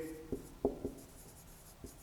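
Writing on a board during an M.Sc. quantum mechanics lecture: a few faint, quiet scratching strokes, then a pause and one more brief stroke.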